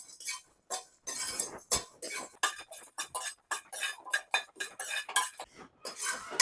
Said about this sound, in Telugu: కొంచెం చక్కగా ఇలా వేపేసుకుందామండి